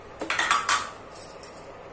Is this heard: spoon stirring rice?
yes